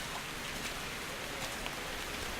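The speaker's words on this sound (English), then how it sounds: "Oh, this rain." Steady rain pours in Metro Exodus, a dense even hiss of drops pattering on surfaces nearby, unbroken and alone.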